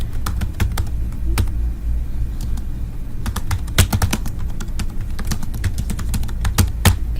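A computer keyboard being typed on in a nurse's hospice clinical note, with close, crisp, irregular key clicks in quick bursts over a low steady background hum, and no voices.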